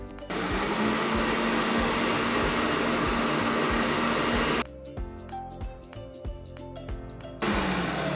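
A countertop stand mixer whisks five eggs with a loud, steady motor whine that switches to a lower setting partway through before returning to full speed, no speech.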